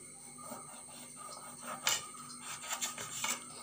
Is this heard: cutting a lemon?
yes